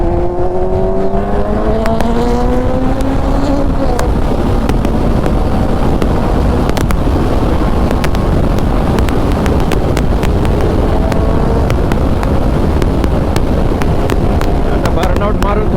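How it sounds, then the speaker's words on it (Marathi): A new superbike tyre, not yet warmed by a burnout, spins in place at a winter drag racing event, giving a loud, steady engine roar with rising pitch sweeps amid wind noise and crowd chatter throughout. "हा टायर पूर्ण जागेवरती फिरतोय, विल्ली लागत नाही प्रॉपर."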